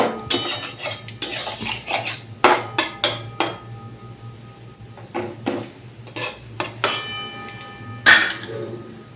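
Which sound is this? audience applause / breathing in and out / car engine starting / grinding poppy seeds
grinding poppy seeds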